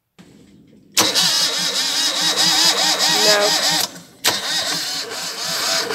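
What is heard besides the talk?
boat engine starter motor starting to fail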